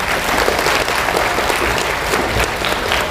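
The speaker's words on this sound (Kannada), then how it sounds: "ಈಗ ಒಂದು ಜೋರಾದ ಚಪ್ಪಾಳೆ ಬರಬೇಕು" A loud, dense round of audience applause fills an auditorium at a Karnataka Power Corporation foundation day ceremony, sustained and even for the full stretch with no voices on top.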